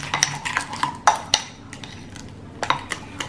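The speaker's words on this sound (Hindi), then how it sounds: "पका हुआ जो बनाना होता है ना वो लिया है मैंने यहाँ पे, और इसको हम कर देंगे थोड़ा सा मैश" A spoon or fork mashes ripe banana in a bowl while malpua is made for Holi, giving sharp, irregular clinks and knocks against the bowl with soft squishing between them.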